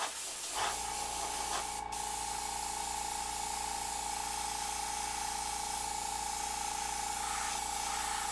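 An airbrush sprays paint while blocking in an evil snowman design, a continuous close hiss with a steady tone that runs the whole time after a brief start.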